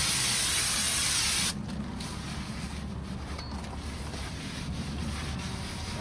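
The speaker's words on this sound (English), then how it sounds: "I used a lot of brake cleaner." Brake cleaner blasts from an aerosol can onto a Nissan Xterra brake rotor in a loud, close, continuous hiss that cuts off sharply, leaving quieter rubbing and wiping sounds.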